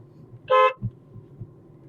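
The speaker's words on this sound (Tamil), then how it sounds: "ஒரு தடவை ஹாரன்." A single short car horn honk, loud and close, followed by quiet low road rumble.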